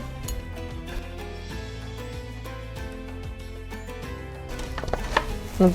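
Two eggs with half a cup of sugar are beaten by hand in a bowl for cookies, with a quick, steady run of close clinking and tapping strokes, rising to louder clatter near the end.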